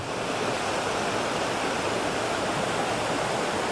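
Steady rushing water of a stream flowing continuously beside a campsite in Khao Soi Dao Wildlife Sanctuary, Thailand, with no voices or other sounds.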